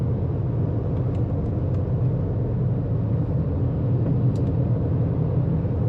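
A Honda CR-V drives along a road at steady speed, its steady low engine and tyre rumble filling the cabin evenly with no breaks, while faint brief clicks rise briefly above the drone.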